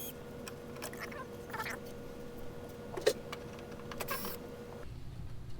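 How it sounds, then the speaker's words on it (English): Phillips screws and clipped interior panels come out of a first-generation Toyota Celica, with faint scattered clicks, taps and one sharper snap over a quiet background hum. "most of these panels are just held in with little clips or some Phillips head screws, so I'm just going to start taking these"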